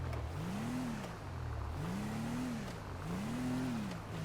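A loud car engine in Grand Theft Auto Online revving in three repeated rising-and-falling sweeps, a low droning tone over steady background noise.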